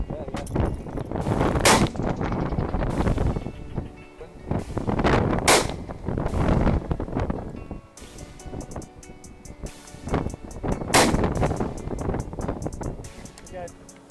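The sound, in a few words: shotgun shots at pigeons in high wind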